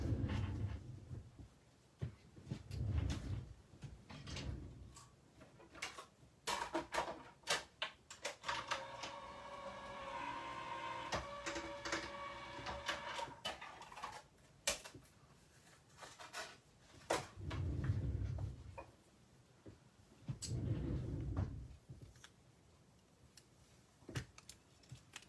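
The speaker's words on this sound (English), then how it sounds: "I'm just going to run this quickly through my machine." A manual die-cutting machine cranked through with a card and die, giving close clicking, ratcheting and thudding with a grinding stretch in the middle, then muffled handling knocks.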